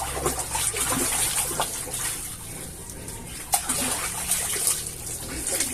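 Water splashes and gushes continuously nearby as it is poured out of a DIY mini swimming pool, a hissing wet stream with a few sharper splashes, and no talking.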